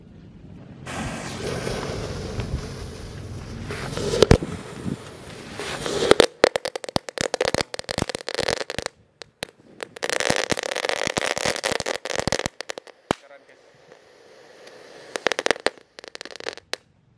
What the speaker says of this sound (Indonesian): Kretekannya berhasil menyala di dalam lubang paralon.